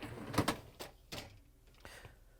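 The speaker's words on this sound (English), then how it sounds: "we have to open up the dishwasher door and pull out the upper rack" A Frigidaire dishwasher door swings open and its upper rack is pulled out, giving several short clunks and rolling clatters spread across a couple of seconds at moderate, close range.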